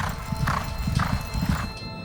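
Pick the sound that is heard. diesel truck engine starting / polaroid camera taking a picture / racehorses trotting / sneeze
racehorses trotting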